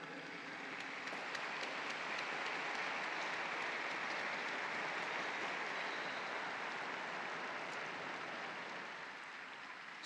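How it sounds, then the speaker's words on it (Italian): Large crowd applauding in a broad outdoor square, a steady, dense wash of clapping sustained for the full stretch and easing slightly at the end, given in tribute to doctors, nurses and volunteers. "un applauso e un grazie grande"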